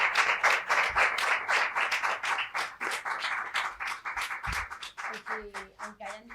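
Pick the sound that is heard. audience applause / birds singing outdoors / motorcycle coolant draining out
audience applause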